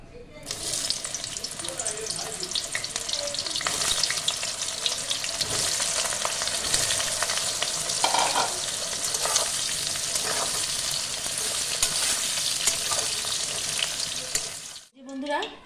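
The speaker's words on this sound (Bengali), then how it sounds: "আমি এবার কড়াইয়ে তেলে এঁচড়টা লাল করে ভেজে নেবো" Pieces of pressure-cooked young jackfruit fry in hot oil in a wok, a loud continuous sizzle with occasional stirring scrapes that stops abruptly at the end.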